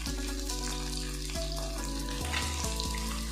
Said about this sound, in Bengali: এই পাপ্তা মাছ খুব একটা বেশি ভাজতে হয় না, নরম মাছ তো।